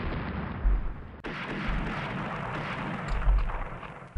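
Warship guns fire in a naval battle in the Rule the Waves strategy game, with a few deep booming thuds over a continuous rumbling sea-battle background.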